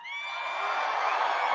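A big crowd at a Trump campaign rally in Des Moines, Iowa cheers and whoops in a continuous, loud, swelling roar of many voices.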